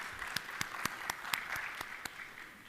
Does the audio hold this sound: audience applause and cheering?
yes